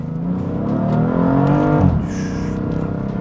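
A BMW M340i's valved exhaust with catless downpipes and full bolt-ons drones loudly up close, its pitch climbing as the engine revs, then dropping back to a steady rumble.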